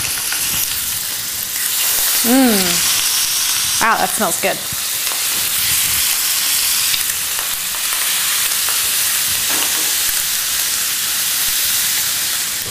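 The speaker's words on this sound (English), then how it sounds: "Once the butter is melted, go ahead and gently set the scallops in it. Hear a nice sizzle when you set them in there." Scallops sizzle loudly in melted butter in a pan, a dense, continuous frying hiss that runs throughout, while a voice briefly speaks partway through.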